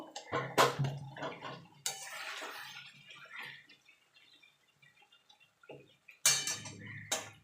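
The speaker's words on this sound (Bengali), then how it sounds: "এবার আলুগুলো দিয়ে দেব" Boiled potatoes tipped into spiced oil in a pan while cooking Bengali niramish aloo dum, a few loud clattering bursts of pieces and utensil against metal, with quieter sizzling and scraping between them.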